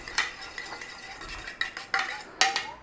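A fork or whisk beats an egg in a bowl for cornbread batter, giving quick, light clinks and taps against the side, close and fairly soft, with no talk.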